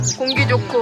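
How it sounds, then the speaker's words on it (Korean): Brief high bird chirps sound over someone speaking briefly in the foreground. "딱 나오면 새소리 들리고"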